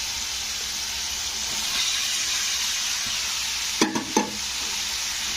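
Steady frying hiss of rice in a pan with coriander masala, near and loud, with a couple of sharp scraping stirs near the end, no talking.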